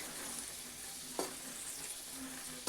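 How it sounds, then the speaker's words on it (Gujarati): Capsicum and onion sizzling softly in a pan while being stirred, a continuous faint hiss broken by one brief scrape of the spoon. "તેને પણ આપણે સારી રીતે મિક્સ કરી દઈએ."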